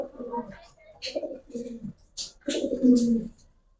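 Pet giribaz pigeons in a cage coo in soft, throaty bursts close by, with a few higher chirps mixed in, all fairly faint.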